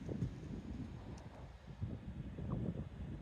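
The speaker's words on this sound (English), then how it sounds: "Very windy. Very windy today." Gusts of wind buffet the microphone in a low, uneven rumble in an open field on a hill, with no voices.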